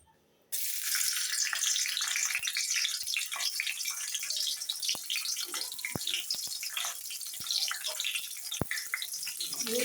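Whole garlic cloves drop into hot oil and start a sudden, loud crackling sizzle that keeps going with dense popping and spattering, close up, with no talking.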